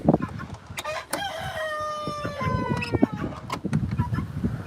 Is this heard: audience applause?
no